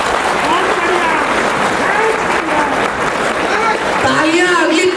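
Crowd applause at a patriotic poetry recital held at a temple event, a broad wash of clapping running under a poet's loud spoken voice throughout.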